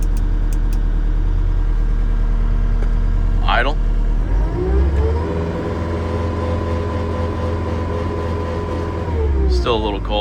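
A 2016 Case skid steer with its diesel engine idling close by, a steady low drone that settles into an even, continuous hum, with a person talking over it.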